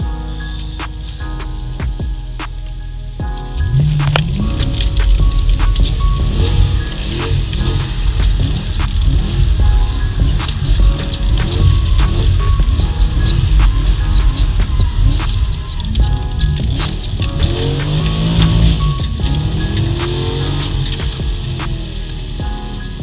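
A 2007 HSV Clubsport R8 accelerates through traffic. Its engine builds into a steady, loud, close drone that holds for about twenty seconds with no talking over it.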